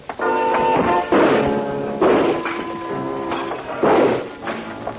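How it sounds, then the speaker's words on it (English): Gunshots and a lamp kicked over in a 1948 Sam Spade radio drama, a series of dull, thudding shots and crashing knocks spaced about a second apart, muffled and boxy, over a sustained musical tone. "He came in shooting. I kicked the lamp out and answered him."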